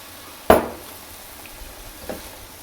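A rubber scraper mixes taco salad ingredients and salsa in a pan, giving one sharp knock of utensil against the pan, then a softer second tap over a faint, quiet background.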